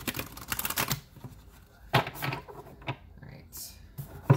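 Oracle cards being shuffled and drawn from a deck: quick papery riffling and soft flicks in short bursts, heard alongside a close voice talking.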